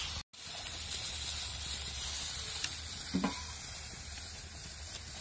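Eggplants roast over a wood-fired clay stove with a steady, faint sizzle and hiss throughout, and a couple of soft crackles from the fire partway through.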